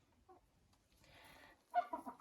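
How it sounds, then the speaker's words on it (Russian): A hen from an Araucana crossbreed gives a few soft, close clucks, with short quiet pauses between them. "вот курочка, которую я вам показывала, помесная с амерауканом"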